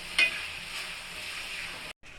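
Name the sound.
stirring and frying ginger-garlic paste in pan for egg curry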